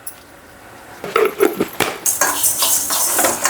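Whole spices such as cloves, fenugreek, mustard seeds and cardamom rattle and scrape as they are stirred in a pan, with a quiet start that builds into busy metallic clinks and a dry frying crackle.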